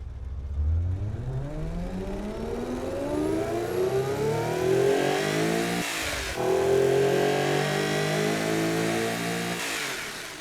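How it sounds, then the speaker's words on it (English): A twin-turbo V12 luxury car engine fires up and revs hard, its loud harmonic roar climbing in pitch, dipping briefly near the middle and surging again before easing near the end, heard alone and up close. "Let's fire up this twin turbo V12 beast."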